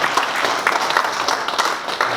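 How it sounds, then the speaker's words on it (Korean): Audience applause in a lecture hall during a talk on AI tools, a dense patter of many hands clapping steadily at moderate volume with a faint voice underneath. "박수 안 칩니까?"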